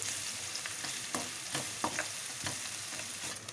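Ginger garlic paste frying in a pan for a cauliflower and lentil curry, a steady close sizzle broken by soft scrapes and clicks of a spoon stirring it, with no voices.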